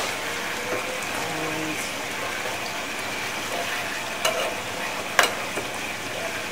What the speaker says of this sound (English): we're turning the meat, making sure that all sides are brown, cooked, bled out